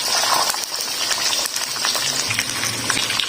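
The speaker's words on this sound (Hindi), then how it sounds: "ये फ्राई हो रहा है, इसके साथ ही मैं इससे प्याज ऐड कर दूंगी।" Chicken karahi masala frying in a pan as onions go in, a loud continuous sizzle with crackles and scraping stir sounds throughout, no talking.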